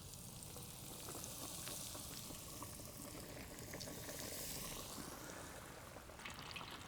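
Fish fillets dropped into hot grease at a campsite fry with a constant, dense sizzle and crackle, steady and fairly close, with no talking over it.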